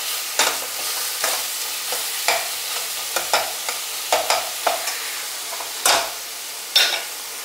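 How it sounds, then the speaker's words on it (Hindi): Tomato tempering sizzles in a hot pan for whole masoor carrot dal, with repeated scraping stirs at irregular intervals, close and fairly loud. "अब अच्छी तरह से तड़के को भूनेंगे जब तक टमाटर हमारे अच्छी तरह से गल ना जाए।"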